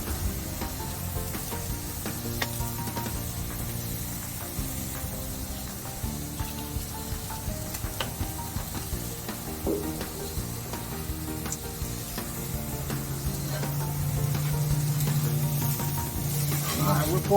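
Burgers, bologna and eggs cooking on a flat griddle, a soft steady sizzle and crackle running throughout, quiet and close, swelling slightly toward the end.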